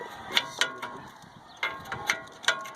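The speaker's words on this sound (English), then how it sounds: "all you have to do is just spin this off with the small crescent wrench" A small crescent wrench turns to loosen the fan hub on an air conditioner condenser motor, producing close, sharp metallic clicks in uneven bursts.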